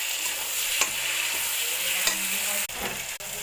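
Ginger-garlic paste and raw tomato frying for mutton kosha, a constant sizzle broken by a few scraping strokes of a spoon stirring the pan.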